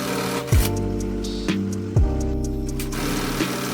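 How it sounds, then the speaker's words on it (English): An industrial sewing machine stitches hidden bar tacks on the pockets of selvedge denim jeans in a small factory, giving close, short motor whirs that rise and fall in pitch across three quick bursts. "Securing the pockets with some hidden bar tacks."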